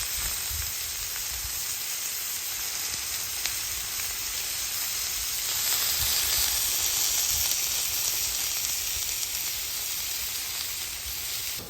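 Pork chops sizzle steadily on a Blackstone griddle, a continuous bright frying hiss with small crackles, close and even throughout with no talking.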